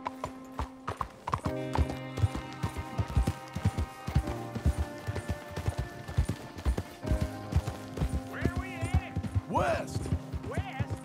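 A horse gallops in Red Dead Redemption 2, its hooves clip-clopping in a quick, steady rhythm. The horse whinnies briefly and game music and effects play underneath.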